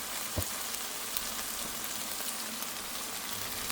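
Garlic sizzling in a pan of warmed tomatoes, a dense continuous crackle and hiss with one soft knock near the start.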